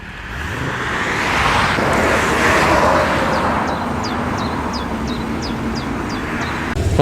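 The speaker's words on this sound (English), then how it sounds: "just behind that is a Ford Sierra XR8. What's going on with this one? This sounds a bit fruity." A Ford Sierra XR8 runs at a Cars and Coffee breakfast car meet, a steady broad engine rumble and outdoor bustle holding for several seconds while small birds chirp faintly in the background.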